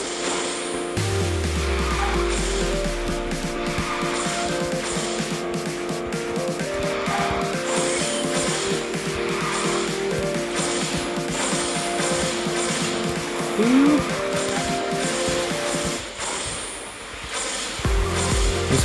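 A car in the mobile racing game QQ Speed Mobile drives and turns, with steady engine drone, tire skids and mechanical effects under a continuous layer of game music.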